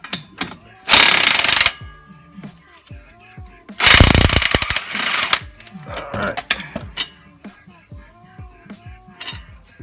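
A power tool rattles at a brake caliper bolt on a G35 car in two loud bursts, the second longer, with clinks of metal parts and a voice talking between them.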